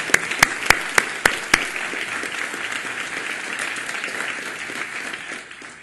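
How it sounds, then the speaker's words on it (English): Applause from an audience at a Calit2 tenth-anniversary event, a steady roar of many hands with several sharp, loud claps near the start, then fading toward the end, with no talking. "Let's give them a round of applause"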